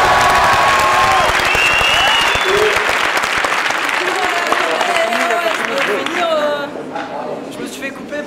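Sustained applause from a crowd at a French general-strike gathering, dense and loud clapping throughout, thinning slightly toward the end, with voices mixed in underneath.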